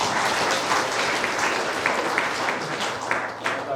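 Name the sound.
audience applause welcoming speaker Igor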